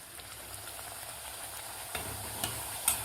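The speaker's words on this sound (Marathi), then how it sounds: "आपलं तेलसुद्धा व्यवस्थित गरम झालेलं आहे, तर लगेच यामध्ये आता आपण एक एक पुरी तळून घेऊया" Puris made from jowar flour frying in hot oil give a steady, soft sizzle throughout, with a few brief crackling pops near the end.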